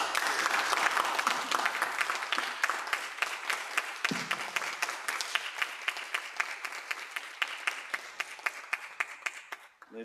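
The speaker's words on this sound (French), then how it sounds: "Merci pour ces applaudissements nourris." Sustained audience applause after a speech at a literary round table, dense and steady at first, then thinning into scattered individual claps that fade out near the end.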